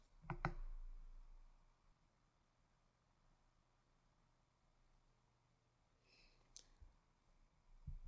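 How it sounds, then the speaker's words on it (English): A computer mouse clicks a couple of times near the start and once more later, crisp close taps over a faint quiet background hum. "To save a test, I can simply click the Save button"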